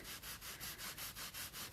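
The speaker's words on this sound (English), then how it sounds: "rub some of this off so we can go back and do our shading" Paint being rubbed off a wooden mailbox, a close rhythmic back-and-forth scrubbing of about nine even strokes, steady and alone.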